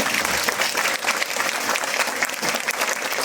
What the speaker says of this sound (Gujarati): આ વડીલોને તાળીઓના કડકડાટથી વધાવી દો